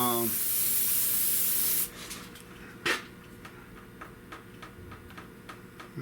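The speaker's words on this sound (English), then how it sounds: "I'm gonna just spray just a little brake cleaner on here." A steady hiss of an aerosol brake cleaner can spraying onto a 1970 Buick Wildcat frame for about two seconds, then it stops, followed by light ticking and clicking sounds.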